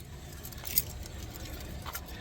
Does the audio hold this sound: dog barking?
no